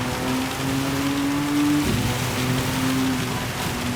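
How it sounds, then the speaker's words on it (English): Steady heavy rain hisses over a race car engine's humming drone that rises in pitch, then drops and rises again, in Gran Turismo 7 at Spa. "Yes, hard rain, come on."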